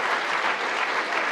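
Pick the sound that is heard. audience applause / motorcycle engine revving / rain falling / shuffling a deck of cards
audience applause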